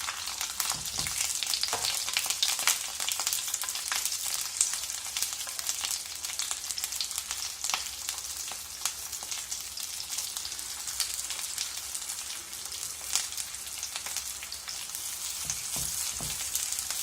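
Marinated eggplant pieces frying in a pan with curry leaves, a steady close sizzle and crackle with occasional stirring scrapes throughout.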